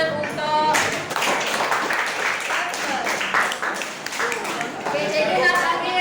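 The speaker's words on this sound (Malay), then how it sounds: "boleh tolak tepuk tangan untuk" Students in a classroom clap together in a dense burst lasting several seconds, while voices carry on over it.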